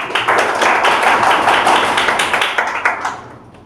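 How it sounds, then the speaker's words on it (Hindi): A classroom of students claps for a classmate's test marks, a close, loud burst of many hands clapping steadily before thinning out and fading toward the end. "तो पहले तो ताली लग जाना चाहिए।"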